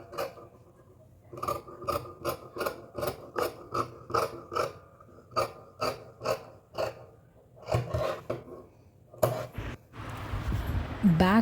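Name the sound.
cutting a blouse sleeve from fabric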